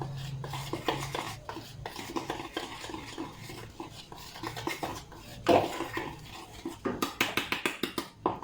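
A utensil stirs and scrapes batter in a bowl with a pinch of salt, steady clinking and rubbing strokes close by, the taps getting quicker and sharper toward the end; no one speaks.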